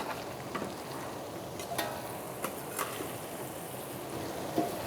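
Browned venison tipped into a pot of vegetables, giving a low continuous sizzle and bubbling with a few light knocks and scrapes.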